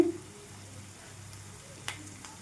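Curry leaves and spices fry in a pan for a cauliflower and potato curry, giving a soft, steady sizzle with a brief sharper crackle near the end.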